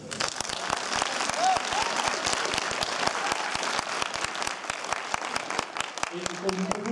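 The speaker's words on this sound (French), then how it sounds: "donc on peut encore l'applaudir." Sustained applause from an audience at a film premiere honouring the producer of Les petits princes, dense steady clapping throughout with a brief voice near the end.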